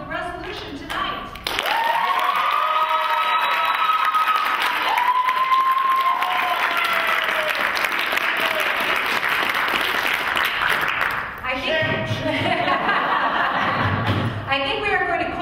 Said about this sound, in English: by your applause, do you believe the opposition best upheld the resolution tonight?